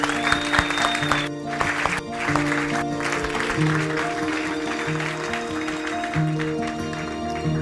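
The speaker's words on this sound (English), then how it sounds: "Don't clap for me, clap for her." Audience applause at a videography fundamentals workshop, a steady wash of clapping lasting throughout with a low tonal hum beneath it.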